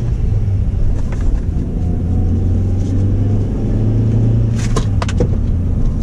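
A Cummins diesel truck with a manual gearbox pulling away, a loud deep engine rumble from inside the cab, with a brief rattle of keys or clicks near the end.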